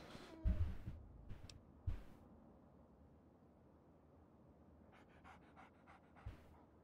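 Dog panting in the Fallout video game: a few quick breathy pants and soft thumps early on, then quieter, followed by a run of rapid faint panting bursts near the end, heard alone over low background hiss.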